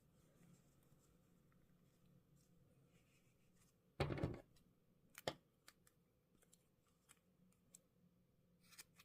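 Scissors snip through crochet yarn while a winter hat is trimmed, one loud close cut followed by a few quieter sharp clicks, in an otherwise quiet room.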